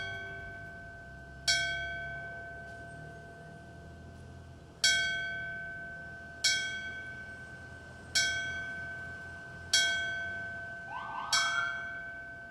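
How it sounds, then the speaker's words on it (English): A single bell at Falmouth Fire Station tolls for the September 11th, 2001 commemoration, six loud clear strikes at steady intervals, each ringing out and decaying over a low outdoor hum, with a brief whoosh of passing traffic near the end. "the ringing of a bell at Falmouth Fire Station to commemorate the sacrifices made on the morning of September 11th, 2001"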